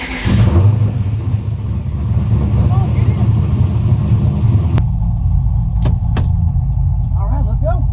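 Turbocharged LS-swapped FC RX7 driving, a steady deep engine rumble that fills the first few seconds and then cuts to a quieter drone, with a voice talking over it.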